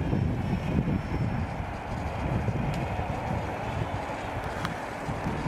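A light aircraft takes off some distance away, a broad steady engine roar with rumble and hiss that holds fairly constant without any speech.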